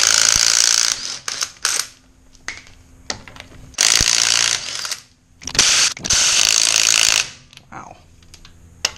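Lug wrench ratcheting on a 1993 Ford Escort GT during transmission removal, heard as several loud bursts of rapid clicking separated by short pauses.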